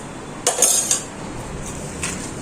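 A big spoon scrapes and clinks against a pot while mixing oil and spices into a mango and green chilli pickle, a few sharp metallic knocks close by with quiet gaps between them.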